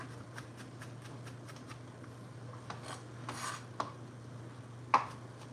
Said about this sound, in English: So it will be about 2 tablespoons of freshly minced garlic